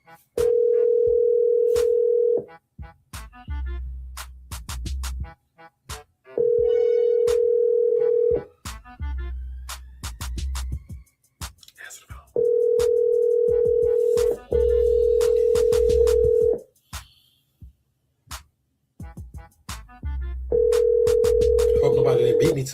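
An outgoing telephone call rings out in repeated long electronic ringback tones, about four bursts separated by short pauses, clear and close as if over a phone line.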